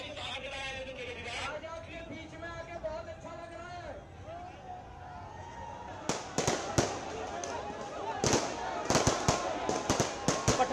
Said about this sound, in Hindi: पटाखे जला रहे हैं आम आदमी पार्टी के कार्यकर्ता।